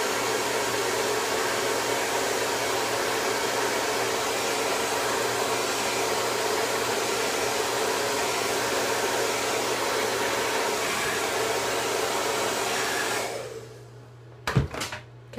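A small handheld eyelash curling and drying tool blows with a steady, even whir for about thirteen seconds, then cuts off, leaving a couple of sharp clicks and handling noises.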